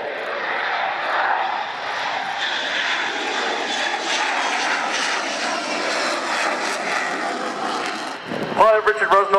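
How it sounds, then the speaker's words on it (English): An F-35 fighter jet at an air show gives a loud, sustained engine roar throughout, steady and close, as the aircraft hovers before the crowd; a brief burst of other sound comes in near the end. "Pilot Richard Rusnock will now bring the aircraft to a hover at Crowd Centre."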